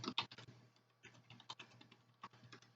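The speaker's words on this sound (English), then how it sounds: "So let's type in Germans from Russia" A search is typed on a computer keyboard: quick, quiet key clicks in irregular bursts with a short pause midway, close and faint, no voices.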